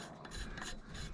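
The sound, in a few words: scratching a mark where a hole will be drilled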